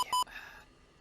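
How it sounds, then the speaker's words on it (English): Radar warning receiver in a flight simulator game, an F-16 Block 50 cockpit, giving a few short electronic beeps close up, the last one longer, then fading. "that's why the kind of new beeps and sounds. It's a new RWR."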